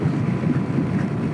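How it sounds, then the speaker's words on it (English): Strong wind buffets the microphone during a scooter ride on the road, a steady loud roaring rush with no talking. "The wind is ripping."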